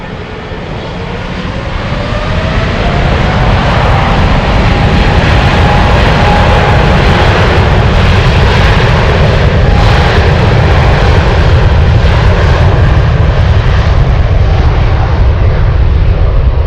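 A DC-10 airliner at Anchorage airport gives a loud, sustained engine roar that swells over the first two seconds and then holds steady and close, alone without voices.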